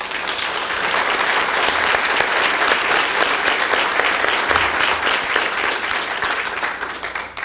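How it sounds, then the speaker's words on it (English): Loud, close audience applause for candidates at an Iberia Parish Council forum, a thick continuous roll of clapping that stays strong throughout and tapers slightly near the end. "How about a round of applause for them?"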